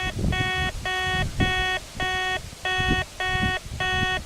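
A Nalanda 18 kHz metal detector emits repeated warbling electronic beeps over a pull tab, seven short bursts in a steady rhythm over faint scraping.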